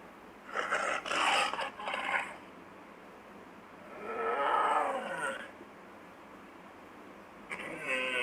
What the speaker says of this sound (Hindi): अचानक फिर वही डरावनी गर्जन हुई।